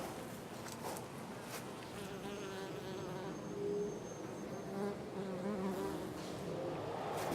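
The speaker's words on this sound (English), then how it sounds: "We got another bee swarm trap." A dense, continuous buzz of bees swarming around a bee swarm trap outdoors in Florida in July, steady and close throughout with no talking.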